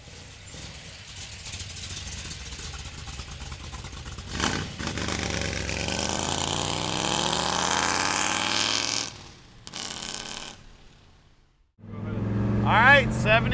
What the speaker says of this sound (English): Listen to that exhaust, man. This thing, people know you're coming in this